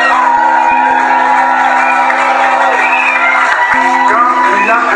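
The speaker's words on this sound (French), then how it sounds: "Est-ce que nous pouvons encore pousser les cris de joie?" A church congregation shouts and cheers together in cries of joy, a loud sustained mass of voices with whoops and calls filling the space throughout.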